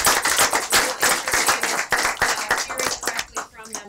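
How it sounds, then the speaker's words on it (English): An audience at a school board workshop applauds, dense rapid clapping from many hands filling the room close by, with voices talking faintly beneath. "A round of applause."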